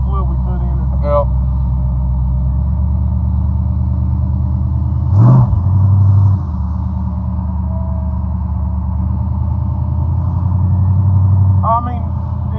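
A supercharged 1955 Chevy engine drones steadily inside the car on a test drive, with a brief surge in revs midway, while people talk over the rumble.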